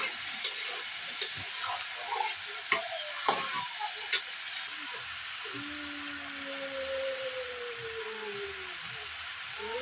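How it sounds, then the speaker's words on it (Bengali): Raw green peas fry in a pan with a soft, steady sizzle while a spatula stirs them in several sharp scraping taps, with a faint tonal whine drifting underneath. "চলো ভালো করে নেড়ে দেওয়া হবে।"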